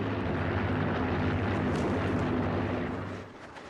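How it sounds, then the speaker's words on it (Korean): A wartime airplane passing overhead in the film Stalingrad, a deep, continuous droning engine rumble that holds steady and loud before easing off at the end. "이때 어디선가 들리는 비행기 소리."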